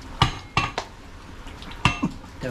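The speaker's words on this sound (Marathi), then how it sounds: "झाकण ठेवतो आपण." A metal lid clanks onto a cooking pot of Agri-style mutton, with several sharp clinks and knocks of metal on metal spaced out, close and fairly loud, with no talk over them.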